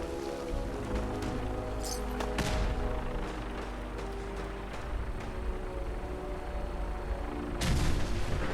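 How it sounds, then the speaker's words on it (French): Explosions in the video game Fallout 4 sound as several deep booms and sharp blasts over a low rumbling background, spaced irregularly with a louder burst near the end. "Les explosions sur ce jeu, je crois que c'est les meilleures explosions que j'ai vues sur le jeu"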